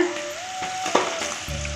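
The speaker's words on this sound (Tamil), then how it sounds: "வெங்காயம் நல்லா வதங்கட்டுங்க நல்லா வதக்கலாம் வெங்காயத்தை" Onions sautéing quietly in a pan with green chilies, a soft frying hiss under a faint tone, with a brief clatter near the middle and a low hum toward the end.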